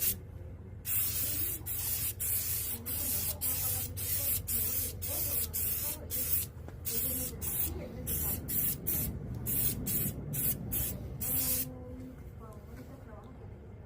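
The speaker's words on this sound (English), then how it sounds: "I'm going to paint a little section just so you can see that it doesn't change that much" Aerosol paint sprayed onto a section of interior trim from a 1996 Ford Bronco, in a string of short hissing bursts of uneven length, close and steady, with brief pauses between them.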